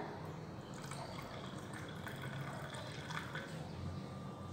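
A cup and a half of water is poured into a pan while candied crunchy peanuts are being made, a steady faint splashing and trickling that runs unbroken without talk.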